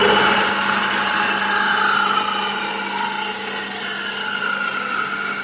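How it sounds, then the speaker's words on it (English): A power tool cuts an exhaust pipe in half for a Barra-engined Nissan Patrol, giving a loud, continuous whining grind that holds steady and eases slightly toward the end. "So I'm going to chop it right in half"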